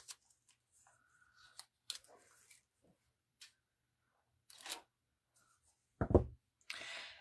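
Scissors snip through a black plastic canvas roof piece for a haunted dollhouse porch in sparse, sharp clicks and rustles, close and quiet, with a louder handling thump near the end.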